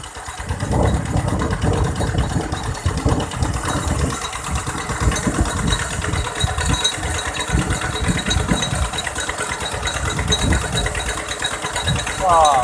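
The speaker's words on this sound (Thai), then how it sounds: "เครื่องนะครับสูบส่งมานะครับ หรือสูบสองต่อนะครับ ถึงจะได้เข้านานะครั" An engine-driven water pump runs steadily in a rice field, pumping water onward in a two-stage relay. It gives a loud, continuous mechanical drone with a rough low rumble that stays constant throughout the clip.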